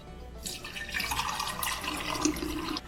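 Homemade eggnog with cream poured into a jar, a steady liquid stream with splashing and dripping that runs continuously at moderate loudness after a brief quiet start.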